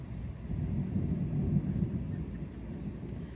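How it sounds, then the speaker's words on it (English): Distant thunder gives a low, sustained rumble that swells slightly in the middle and then stays steady, heard alone without talk. "whoa, thunder."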